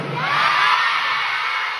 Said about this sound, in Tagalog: Bakit ang hihina niyo sumisigaw?